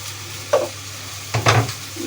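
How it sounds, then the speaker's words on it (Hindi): Chicken being stirred and mixed with turmeric, red chili, coriander and tikka powder, giving a few short wet scraping bursts of mixing, close and moderately loud, with quiet gaps between and no talk. "इसको मिक्स कर लेते हैं।"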